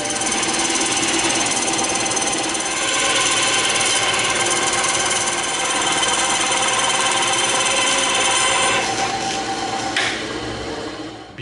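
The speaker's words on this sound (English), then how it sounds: "I'm gonna cut this circle out on the bandsaw" A bandsaw runs loud and close in a workshop, cutting a circle out of EVA foam for a shield, a continuous buzzing drone that tapers off at the end.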